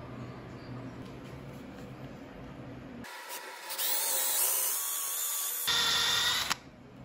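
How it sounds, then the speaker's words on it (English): Small power drill boring a hole into a deer antler tine clamped in a vise, a faint background hum giving way to a loud, high whining bite for about three seconds, a short pause, then a final burst before stopping. "we're gonna go ahead and start drilling a hole."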